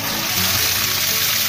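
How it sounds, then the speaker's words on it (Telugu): Rose-pink coloured water gushes from a village borewell in a steady, loud rush that fills the whole moment with even, broadband noise. "బోర్ నుంచి రోజ్ కలర్ వాటర్ వస్తోంది"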